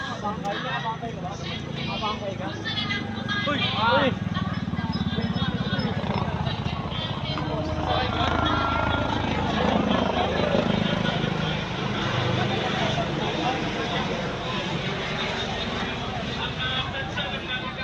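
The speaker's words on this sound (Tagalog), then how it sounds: "Helicopter." A helicopter flies overhead at a crowded National Rally for Peace at the Quirino Grandstand in Manila, its steady rotor drone blending into constant crowd noise and nearby talking.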